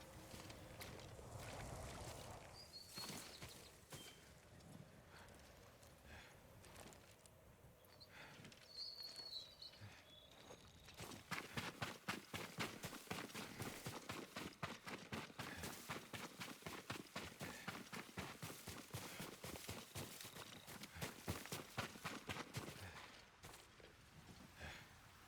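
A horse's hooves in Ghost of Tsushima, a steady, fast clip-clop of galloping that starts near the middle and runs to the end, with faint bird calls and wind over an outdoor ambience.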